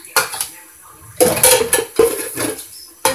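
Dishes being washed by hand at a kitchen sink: irregular clatter and clinks of plates, pots and cutlery in several bursts, close and fairly loud, with running water between them and no speech.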